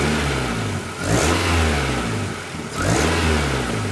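A car engine revving as the throttle plate is snapped open and shut during a MAF sensor test, rising and falling in two quick surges over a steady idle, loud and close with no talking.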